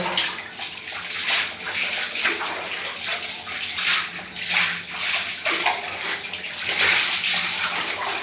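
Water sloshing and splashing continuously in a tub, with bursts of louder splashes throughout and no speech.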